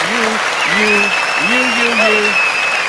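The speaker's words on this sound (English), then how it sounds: "We put some hand claps for the audience" Hand claps for a podcast audience, a steady wash of clapping running the whole time under a voice talking over it.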